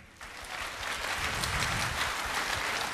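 Clapping from a seminar audience at a public speaking event starts abruptly and swells into a dense, rain-like wash of claps that holds steady at a fairly loud level.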